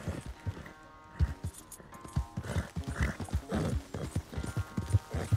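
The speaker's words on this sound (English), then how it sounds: "Where's that big, mean horse?" A farm horse moving with clear clip-clopping hooves in a steady rhythm, close and moderately loud, with occasional snorts or whinny-like sounds among the steps.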